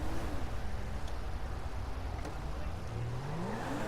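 A small car drives in Grand Theft Auto V, a steady engine drone with revs rising and falling, moderately loud throughout, with brief clicks from the game.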